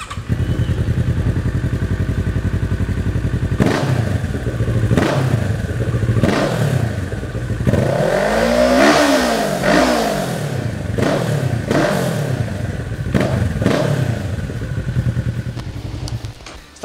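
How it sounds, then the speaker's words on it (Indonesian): A 2017 Kawasaki Z650 650cc parallel-twin motorcycle idles loudly up close through its exhaust, then blips the throttle repeatedly in sharp revs, one longer climb and fall, with no speech. "Sekarang coba kita nyalain aja mesinnya dan kita dengerin suara knalpotnya ya."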